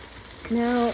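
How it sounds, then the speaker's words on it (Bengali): A paste of nuts, raisins, fried onion and yogurt for chicken roast hits a hot pan, giving a brief soft sizzle that swells into a loud steady frying hiss. "বাদাম, কিশমিশ আর বেরেস্তা, টক দই, সেটাকে খুব ভালো করে মিশিয়ে এখন কষাবো"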